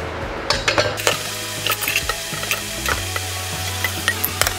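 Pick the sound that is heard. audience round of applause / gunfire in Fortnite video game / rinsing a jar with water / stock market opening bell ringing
rinsing a jar with water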